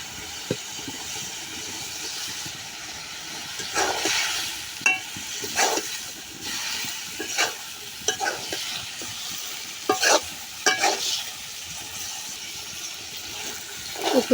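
Shing fish roe is stir-fried with spices in a pan, giving a steady low sizzle broken by repeated scraping strokes of a spatula, close and fairly loud, with no talking.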